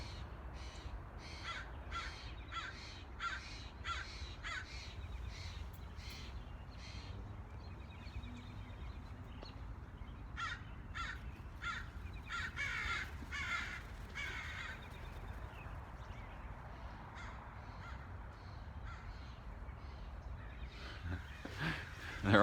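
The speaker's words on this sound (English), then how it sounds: "And I think the birds nearby are mostly crows." Crows and ravens caw outdoors, with repeated harsh calls in uneven series over a steady background rumble, some near and some farther off.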